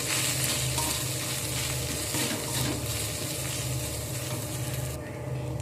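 Spices including ground cumin sizzle and crackle steadily in a hot pan, with occasional stirring scrapes, a continuous close-up frying hiss.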